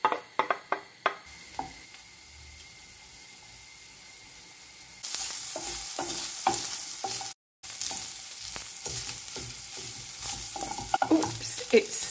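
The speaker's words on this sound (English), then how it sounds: "Then we're going to fry these lovely pieces of bacon." Chopped bacon pieces fry in a pan, starting with a few clicks and stirs before settling into a steady, loud sizzle with scattered crackles and spitting pops, and no talking.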